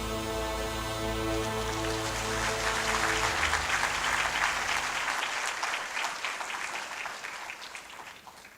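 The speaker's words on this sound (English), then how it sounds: "So the applause says it all." Loud, dense audience applause at a conference's 10th anniversary opening ceremony, with a sustained music chord underneath for the first few seconds before the clapping continues alone and slowly eases off.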